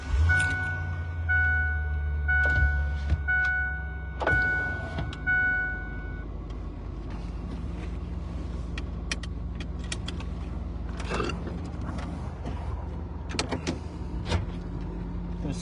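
A car is started and pulled away while recorded from inside, with keys jangling, a steady engine hum and a few clicks and thumps, fairly loud and close throughout.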